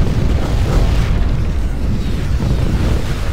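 Explosions under fire in the video game Ground Control 2, a dense, continuous low rumble of blasts with no clear breaks, loud and close.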